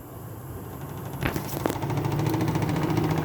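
A Toshiba front-loading drum washing machine, shipping bolts still in place, spins up toward 400 rpm; a low motor hum rises after a couple of clicks into a steady whirring drone with faint rhythmic vibration.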